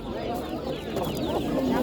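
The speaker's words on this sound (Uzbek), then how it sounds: "Mashhur xo'rozni olaylik-a." A rooster and other fowl cluck at a busy poultry market in Andijan, a continuous noisy crowd murmur around the birds with voices talking nearby.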